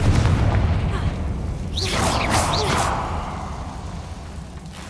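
Confringo explosive spell cast in Hogwarts Legacy, a single booming whoosh with a crackling burst near the two-second mark over low game ambience, fading afterward.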